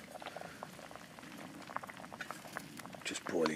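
Potatoes boil in a pot on a single-burner gas camping stove at an outdoor wild camp, giving a close, steady bubbling and popping patter that grows louder toward the end.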